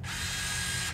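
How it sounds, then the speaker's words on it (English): A small motor extends the lens of a compact digital camera with 2x zoom, making a steady, close, grinding whir that runs for about a second with no voices. "There's the lens engaging. The little tiny little lens moves out. Very, very noisy."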